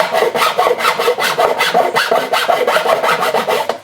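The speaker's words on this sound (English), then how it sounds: "you might have to do a little bit of filing, which we are going to have to do because it doesn't fit" Hand filing to fit a part into an aftermarket dash being installed on a 2008 gas Club Car DS golf cart: steady back-and-forth rasping strokes, about two per second, close and loud with no talk.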